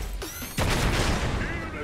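War Machine firing mortars in the video game Marvel Super War: a sudden heavy boom about a third of the way in, followed by a dense rumbling blast tail, with game voice lines and effects underneath.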